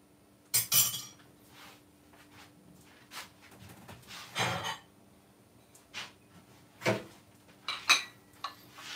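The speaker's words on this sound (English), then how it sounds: "Let's get the pot over this side." A cooking pot shifted across a home stovetop, giving several short metallic clinks and knocks scattered through the stretch, close and fairly quiet, with no talk.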